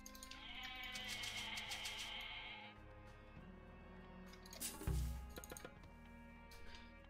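Goats bleating in Age of Mythology, a few wavering cries layered together over a busy game backdrop with clinks and a low thump partway through; no talk.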